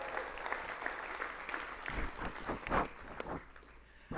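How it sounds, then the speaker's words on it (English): An audience claps and cheers for several seconds, a dense burst of applause that swells and then tapers off. "give a round of applause"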